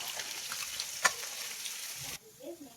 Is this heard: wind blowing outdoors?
no